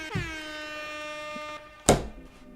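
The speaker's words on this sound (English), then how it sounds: "I'm gonna go ahead and give an air horn." A synthesized air horn sound effect blares from a computer, a sustained harmonic honk lasting over a second, followed by a second abrupt, loud burst shortly after, close and clear with no talking.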